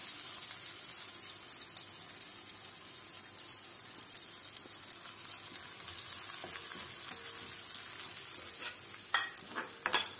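Curry leaves and chilli flakes fry with dried prawns in a pan, a soft steady sizzle with faint scraping near the end, quiet and without voices.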